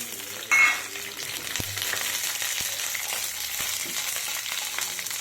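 About ten green chillies sizzle in hot oil in a pan, a continuous close crackling hiss with a sharp burst as they hit the oil near the start, then occasional light stirring clicks, no talking.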